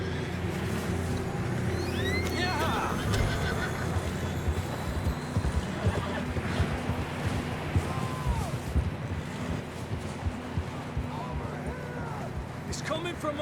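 Horses gallop in Red Dead Redemption 2, a steady drumming of hooves under continuous ambient noise, with people talking over the riding.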